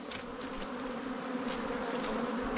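Honey bees buzz steadily around a beehive, a continuous close, low-level hum of many wings with a few individual bees droning past.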